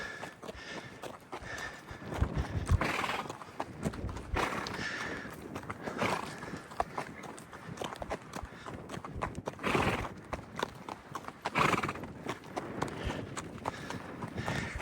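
Bulls and cows run into a corral with a continuous rumble of hooves and thuds, surging in waves, close and fairly loud throughout.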